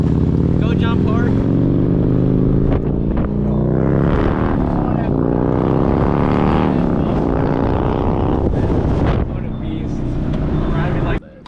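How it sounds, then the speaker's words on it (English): Jet ski engine running on open water, a loud, steady motor drone with rising and falling pitch as the throttle shifts, close by and continuous, cutting out at the very end. "Today we are on the jet ski."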